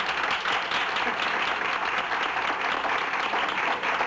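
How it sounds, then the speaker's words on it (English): A crowd claps in steady, continuous applause for a performer named Dooley, many hands blending into a dense wash that holds evenly from start to finish without speech. "how about a round of applause for Dooley?"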